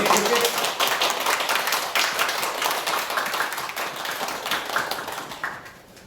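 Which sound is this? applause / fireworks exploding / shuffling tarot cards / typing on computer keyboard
applause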